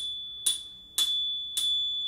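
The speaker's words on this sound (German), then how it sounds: "Und eine Klingel." The handlebar bell on a Moovi StVO e-scooter rings three times, each a bright, high metallic ping with a short ringing tail, evenly spaced and close up.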